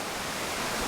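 Wildcat Creek rushing through a rocky gorge in the rain, a dense, steady roar of flowing water filling the whole moment without a break.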